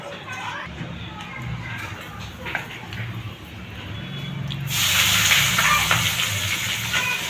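Cumin seeds and dried chilli hit hot oil and sizzle as a faint background hiss that swells into a louder, steady frying sizzle over the last few seconds, with someone talking earlier on.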